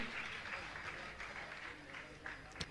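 Faint, distant applause from a crowd at a religious honouring ceremony continues steadily, with a low background murmur and a sharp knock near the end.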